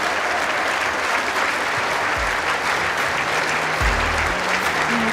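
Sustained applause from a crowd on their feet at an indoor bowls championship match, a steady dense clapping that fills the whole stretch without a break.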